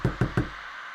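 Three firm knocks on a door at night, evenly spaced and close, each a dull thud with a short ring, followed by quiet.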